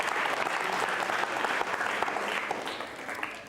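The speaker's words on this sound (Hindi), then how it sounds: "जोरों से तालियां बजाइए।" Sustained audience applause at a school quiz show for a contestant, many hands clapping in a dense, even wash that holds steady for several seconds before easing slightly toward the end.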